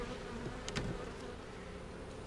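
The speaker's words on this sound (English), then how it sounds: "got a bunch of bees in the bottom" A steady, dense buzz of many honey bees in a hive fills the space, a continuous low hum with a few brief sharper sounds near the start.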